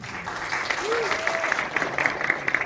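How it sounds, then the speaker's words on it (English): Audience applause at a film Q&A session, steady dense clapping from a room full of people with scattered louder claps standing out near the end. "And thank you all for that lovely applause."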